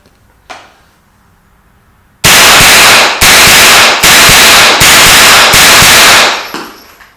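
Smith & Wesson M&P 15/22 semi-auto rimfire rifle firing, a rapid string of about five loud sharp shots with ringing tails, close up, preceded by a faint click.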